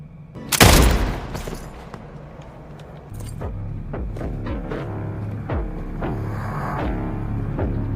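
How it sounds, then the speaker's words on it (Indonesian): A gunshot in a film scene bursts out loud and close near the start, followed by a low rumbling background and scattered sharp clicks and knocks, with no talk. "Cole langsung saja menembak mati Jaran"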